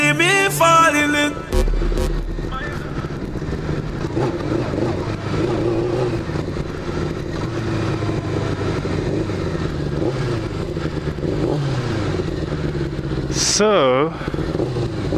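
Motorcycle engine running while on the road, a continuous mid-pitched drone with rising revs and wavering pitch, a voice talking over it throughout and a brief whine near the end.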